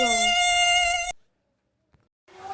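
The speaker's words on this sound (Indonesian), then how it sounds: "dan nyamuk berdengung." A steady, high whining mosquito buzz with strong harmonics, loud and close for about a second, then silence with a faint click, before a softer buzzing returns at the end.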